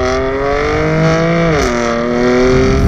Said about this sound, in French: L'échappement performance vous offre vraiment une sonorité du démon